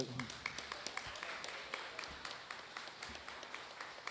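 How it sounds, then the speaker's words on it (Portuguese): Steady applause from a church audience after a play, dense clapping that keeps going for several seconds at moderate distance, with some voices mixed in. "você desse uma salva de palmas para esse povo que trabalhou muito"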